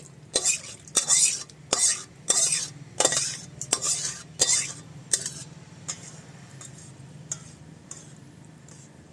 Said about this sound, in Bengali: এবার আমি নামিয়ে দিচ্ছি মানে ঢেলে নিচ্ছি বাটিতে